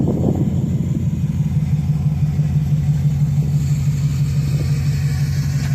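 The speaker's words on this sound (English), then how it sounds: "1969 Lincoln Continental Mark III. And listen at that sound." A 1969 Lincoln Continental Mark III, a limousine, idles with a steady, throaty low rumble that stays loud and even throughout, with no voices over it.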